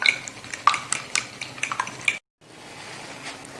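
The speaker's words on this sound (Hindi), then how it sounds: "अंडों को हम फेंट लेते हैं।" Eggs being beaten in a bowl for a fried chicken coating, with quick clinking and tapping strokes of utensil against the bowl that stop abruptly, followed by quieter background.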